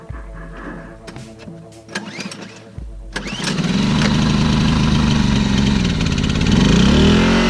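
Polaris generator outdoors on a side-by-side trail ride: quiet mechanical clicks and knocks, then the engine catches and settles into a loud, steady close running drone.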